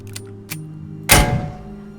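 A weapon is reloaded in the zombie video game Dead Linger: two light mechanical clicks are followed by a heavier thunk and a short rattling tail, close and distinct over a low hum.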